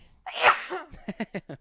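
A single sharp human sneeze with a loud breathy burst, followed by a few short rhythmic exhaled bursts, close up in a quiet room.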